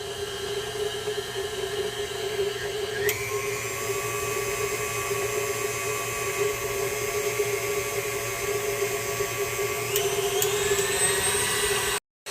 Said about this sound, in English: using my KitchenAid here with that special dough attachment there. We're going to mix everything up together for at least a good 10 to 12 minutes here